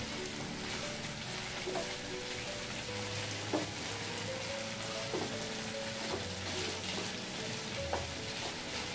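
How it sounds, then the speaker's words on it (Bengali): A potato and cauliflower curry sizzles as it is stirred and fried in a pan, a constant close crackle with occasional scraping of the spatula against the pan, no talking. "ছেড়ে কষিয়ে নেব, ভালোভাবে কষিয়ে নেব।"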